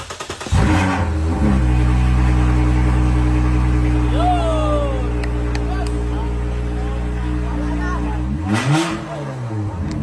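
A Lexus IS350 V6 engine cranks and fires at about one second, then holds a loud, steady rumble close by, with a brief rev near the end and a voice speaking over the running engine.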